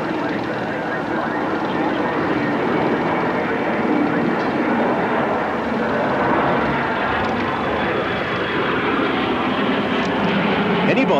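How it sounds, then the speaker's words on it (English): A de Havilland Vampire early jet trainer flying at a 1988 Australian bicentennial airshow, its engine a loud, sustained roar throughout, with a commentator talking over it. "Anybody familiar with early jets will recognise this aircraft, the de Havilland Vampire"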